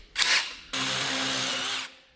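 A power drill boring out bolt holes in the door of a 1964 International pickup with broken hinges: a short burst, a brief pause, then a longer steady whine of drilling, close and loud with no talking.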